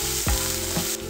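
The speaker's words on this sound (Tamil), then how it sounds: "வெங்காயம் நல்லா வதங்கணும்." Chopped onions frying in a pan for an egg masala gravy, a steady close sizzle with a couple of stirring scrapes, heard alone without talk.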